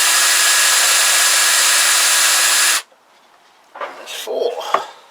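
Power drill boring into aluminium parts during a Kawasaki GPZ500S motorcycle rebuild: a loud, steady whine for nearly three seconds that cuts off abruptly, followed by faint clattering and handling noises.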